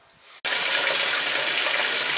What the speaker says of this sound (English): sorry about the noise of running water.